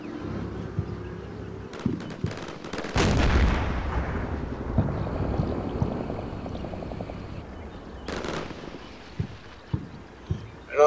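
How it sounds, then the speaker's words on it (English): Explosive breaching charges blowing through a wall in the war game Combat Mission Shock Force, heard as a loud blast with rumbling aftermath, surrounded by scattered gunfire and distant booms over a noisy battle backdrop. "They're going to blow through the wall and assault that sniper team"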